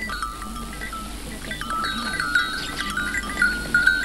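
Several goats bleating, overlapping bleats from a small herd at close to medium range, with a faint clank in the background.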